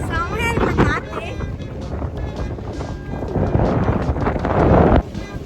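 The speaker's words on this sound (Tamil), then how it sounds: "செமையா இருக்கு காத்து" Strong wind buffets the microphone outdoors in a village, a steady loud rumble with gusts swelling near the end, while people talk over it.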